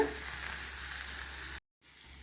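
Tomatoes roast in a pan for a North Karnataka tomato chutney, giving a steady hissing sizzle that cuts out for a moment near the end, then returns a little quieter.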